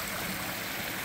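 A stream flows steadily across a wet trail water crossing spanned by a log, giving a continuous soft rushing and trickling wash with nothing else standing out.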